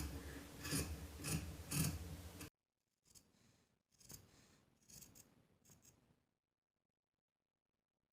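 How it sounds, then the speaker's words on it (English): Scissors snip into the seam allowance of a knit cotton tee at a sleeve slit, a quick run of sharp close cuts followed by a few quieter clips and rustles, then silence. "we're going to slit into that seam allowance, careful not to clip through the stitching at the top"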